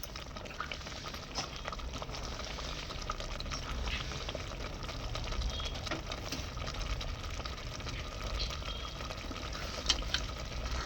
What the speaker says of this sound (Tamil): இது இப்போ நல்லா கொதிக்குது